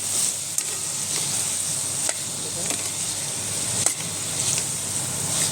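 Cluster beans with jaggery and salt sautéing in a pan, a bright continuous sizzle broken by a few sharp spatula taps and scrapes, close and fairly loud with no voices.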